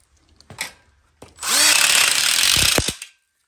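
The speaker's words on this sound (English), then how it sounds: "With these hex head self-tapping screws, it's so easy to screw these ConnecTube couplers to the steel tubes." A power drill drives a hex head self-tapping screw through a ConnecTube coupler into a steel tube for an outdoor kitchen frame. A couple of short taps come first, then a loud, close whir of about a second and a half that stops abruptly.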